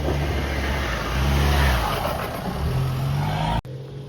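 A 4WD Toyota Landcruiser 1HDT engine revs hard and steadily up a steep hill near Lithgow while running in two-wheel drive because of a front diff problem, loud and close, and the roar cuts off abruptly near the end.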